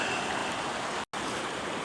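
Water bubbling at a rolling boil in a pot on a camp stove in the White Mountains, a steady close hiss and burble with one brief dropout midway.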